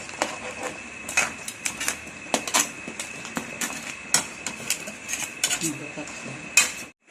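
Crab being stirred into a boiling pot of jackfruit in coconut milk, with frequent close metallic clinks and scrapes of a utensil against the pot over a steady simmering hiss, the clatter irregular and busy throughout.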